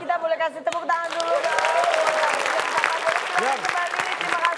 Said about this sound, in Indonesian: kita boleh kasih tepuk tangan dulu